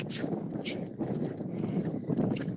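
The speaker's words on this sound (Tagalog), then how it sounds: "Ang lakas ng hangin." Gusty wind buffets the microphone in uneven, rumbling bursts, loud and close throughout, in freezing weather at Enna.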